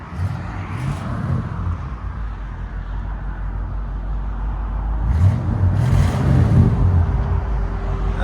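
A 1960 Cadillac Eldorado's 390 V8 through a Valvetronic Designs exhaust with the valves closed, giving a deep, steady, close burbling idle that swells into a louder, throatier rev in the final few seconds.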